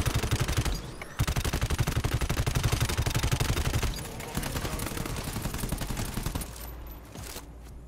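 Rapid automatic gunfire in the video game GTFO, loud and close, in fast continuous bursts with brief pauses and mechanical clatter, then dropping away near the end.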